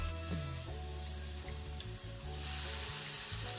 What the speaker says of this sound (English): You know if it's good and hot if you hear a sizzling sound